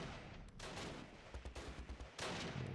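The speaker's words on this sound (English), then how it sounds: "There's something over here shooting." Gunfire in the Close Combat: The Longest Day war game at Pegasus Bridge: a dense fusillade of shots, with a rapid run of bursts in the middle and a loud burst near the end, no voices.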